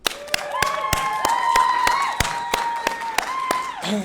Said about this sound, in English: why don't we kick things off with a loud round of applause